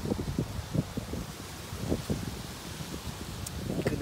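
A gentle, faint wind rustles by a river on a quiet holiday day, a soft steady hiss with a few light knocks and movements nearby, no talking.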